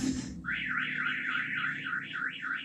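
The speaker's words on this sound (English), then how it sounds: "that was so ridiculously loud. It set off the alarm." A car alarm siren whoops on and off in a fast rising and falling wail, steady and fairly loud, following a short burst of noise at the start.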